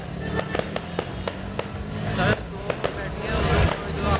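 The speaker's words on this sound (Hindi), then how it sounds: "आतिशबाजी का मुजाहरा किया गया" Fireworks bursting at a street celebration welcoming a political leader in Lahore, with a rapid string of sharp cracks and bangs over crowd noise.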